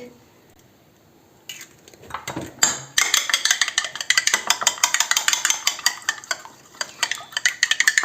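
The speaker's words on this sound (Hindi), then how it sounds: "अब एक एग लेते हैं जिसको हम यहाँ पे फेंट लेंगे" Egg being beaten with a fork or spoon in a bowl, rapid rhythmic clinking and tapping against the bowl's sides, close and steady after a few quieter handling sounds, for frying chicken shami kababs in a home kitchen.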